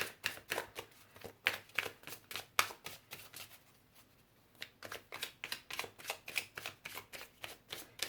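Tarot cards shuffled in a steady riffling rhythm of crisp, close flutters, pausing briefly midway before resuming, with no talking.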